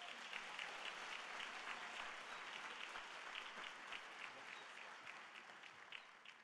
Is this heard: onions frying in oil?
no